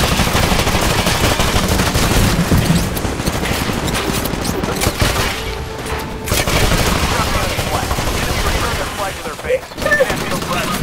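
Gunfire in the video game Titanfall during a capture-the-flag match, loud, dense and continuous rapid shots and bursts, with players talking excitedly over it.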